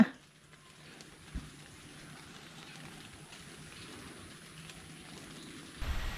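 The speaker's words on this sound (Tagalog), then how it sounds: "Parehas tayo nabasa ng ulan." Steady rain falls outdoors as a soft, even hiss throughout, fairly faint, with a brief thump near the start and a louder rustle at the end.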